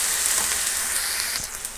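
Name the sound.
drumstick leaves frying in a pan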